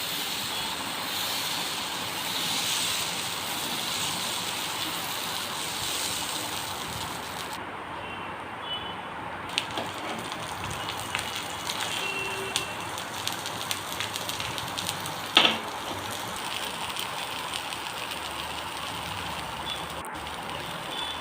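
A crisp ghee dosa sizzles on a hot pan, a steady close hiss with occasional small clicks and pops, with no talking.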